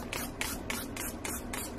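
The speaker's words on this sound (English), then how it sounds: "So let's give that a spray of alcohol" A spray bottle of alcohol spritzes over cold process goat milk soap in six quick, evenly spaced hissing bursts, close and fairly quiet, with no talking.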